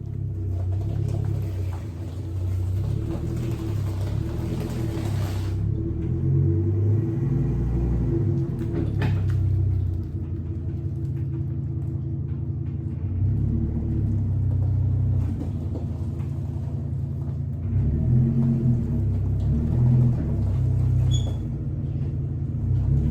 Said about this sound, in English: I hear a rat rod. It's a 71 Chevy short box